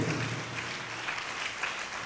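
A church congregation clapping together, a brief burst of soft, fairly distant applause that stays steady for two seconds.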